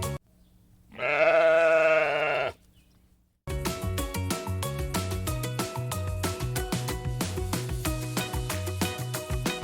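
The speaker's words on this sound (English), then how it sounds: "A sheep." A sheep gives a short, loud, steady bleat at close range, then stops, followed by lively background music.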